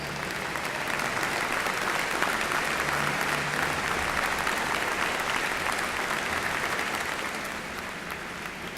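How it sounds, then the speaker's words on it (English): Sustained, dense round of applause from an audience at an evening honors ceremony for a family of honorees, steady and full throughout before easing slightly near the end. "let's give them a nice round of applause"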